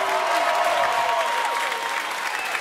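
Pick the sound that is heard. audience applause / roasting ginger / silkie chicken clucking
audience applause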